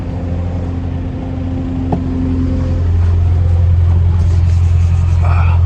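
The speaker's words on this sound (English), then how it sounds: "Here we got the skid loader here." A skid loader engine runs on a farm while manure is hauled, giving a deep, steady idle rumble. The rumble grows louder and heavier about halfway through and stays close and loud.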